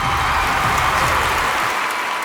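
Steady applause from an audience greeting a speaker at a Tamil film event, dense and continuous throughout with no voices over it.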